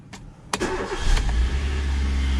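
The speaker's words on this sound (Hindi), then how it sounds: "न्यूट्रल, हैंड ब्रेक, इंजन को करेंगे स्टार्ट।" A car's starter cranks briefly before the engine catches and settles into a steady low idle, heard close and loud with no talking.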